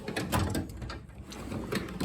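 A pry bar drawer sliding open in a workshop tool chest, a continuous metallic rolling rumble with faint rattling of tools inside, moderately close and steady throughout.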